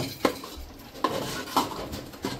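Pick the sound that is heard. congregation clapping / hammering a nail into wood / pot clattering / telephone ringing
pot clattering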